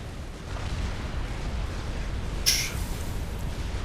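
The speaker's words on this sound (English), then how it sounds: "explosions, dirt, debris scattering all over the place. As should happen from battleship fire." In Supreme Commander: Forged Alliance, battleship artillery shells land and explode, a loud sharp burst at the midpoint standing out over a low, constant rumbling din of battle.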